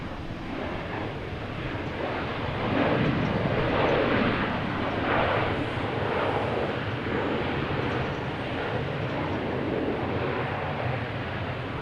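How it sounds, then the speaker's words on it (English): A jet lands at Logan Airport with thrust reversers deployed, a loud broad roar that swells and stays heavy for several seconds before easing slightly, with no speech over it. "the thrust reversers are louder than the takeoff"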